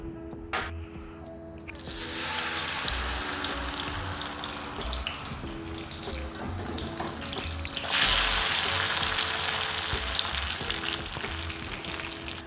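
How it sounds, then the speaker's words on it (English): Oil heats in a pan on a gas stove before eggs are fried. After a few light knocks, a steady, close sizzling hiss sets in and grows slightly louder about halfway through, then runs on alone without talk. "Switch on my gas, add the oil, and let it heat up."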